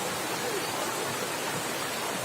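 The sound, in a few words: waterfall and deep water at Khlong Maduea, Nakhon Nayok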